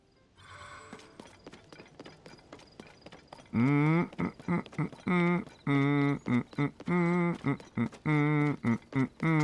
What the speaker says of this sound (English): Get back up on that fucking blue horse and pitter-patter there, Link!